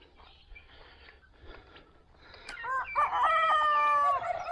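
On a farm in northern Thailand after a big storm, chickens cluck quietly before a rooster lets out a loud, close crow that carries to the end.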